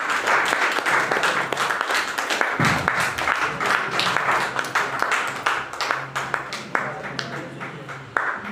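An audience at a business event gives loud, continuous applause to welcome a speaker, steady clapping throughout with some sharper individual claps standing out near the end.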